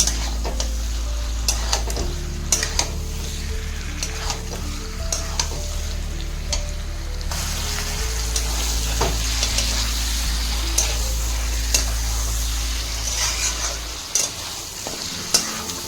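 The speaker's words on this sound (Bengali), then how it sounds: "এবারে এর উপরে আমি চিকেন দিয়ে দিচ্ছি। আমি চিকেনটা ভালো করে প্রথমে কষে নেব।" Chicken in spice paste frying in a pan for a Bengali-style chicken and potato jhol, with a continuous loud sizzle and frequent scraping, clattering stirs close by, plus a low steady hum beneath.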